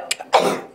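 A single sharp sneeze, a quick inhaled catch followed by a loud, breathy burst, close to the listener.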